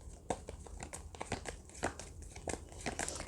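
Tarot cards are drawn and shuffled by hand, giving a run of close, crisp papery crinkles and soft snaps in uneven bursts over faint room noise, with no talking.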